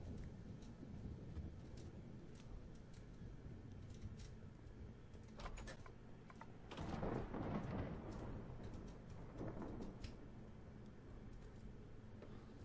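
Rumbling thunderstorm from a Minecraft weather mod, with steady rain-like noise throughout and a louder rolling thunder surge midway through that fades back into the continuous storm wash.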